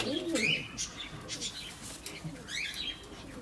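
Soft pigeon coos and scattered chirps, with a brief flutter of wings near the start, all fairly close and quiet.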